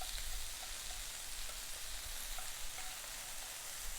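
Arame, carrot and onion sizzle steadily in a pan while being stirred with cooking chopsticks, a soft, even crackle with no voices.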